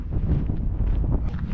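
Steady outdoor wind in Lapland buffeting a microphone, a continuous low rumbling roar with gusty swells and no voices.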